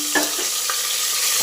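Mutton hits a hot frying pan for curry, setting off a close, steady sizzle marked by a few quick stirring scrapes.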